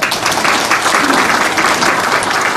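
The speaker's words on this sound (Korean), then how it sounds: "박수 한번 주시기 바랍니다" Warm, continuous applause fills the room at a chamber of commerce breakfast gathering, a thick, steady wash of clapping hands from many people, loud and sustained from start to finish.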